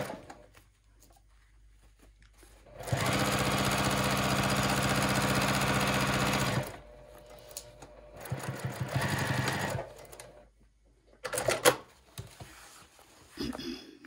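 A sewing machine stitches a trouser inseam in one sustained close burst of rapid mechanical whirring, followed by a shorter run of stitching and scattered handling clicks and knocks in a quiet room.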